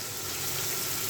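Tengra fish meet hot frying spice paste made with garlic paste, giving a steady, close, loud sizzle that hisses on without a break.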